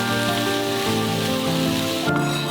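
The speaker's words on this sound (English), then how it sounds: "Mix thoroughly and continue to fry over low heat." Onions, bell pepper and 600 grams of ground meat fry over low heat in a pan with a soft, steady sizzle, partly covered by sustained background music.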